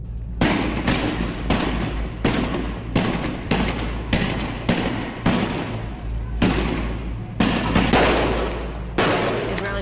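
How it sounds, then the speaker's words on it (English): Sharp, loud bangs ring out in an irregular series during a street protest outside Jerusalem as forces fire tear gas, each report followed by a brief echoing tail, with faint voices in between. "Forces firing tear gas to disperse the people protesting the Israeli military operation."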